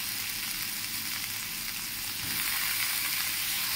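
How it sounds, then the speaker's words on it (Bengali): Chunks of eggplant fry with potatoes in oil in a pan, giving a steady, close hiss and sizzle, with a soft stirring shuffle partway through. "বেগুনটাও নাড়াচাড়া করে নিয়েছি"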